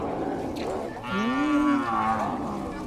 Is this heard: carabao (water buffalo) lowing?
yes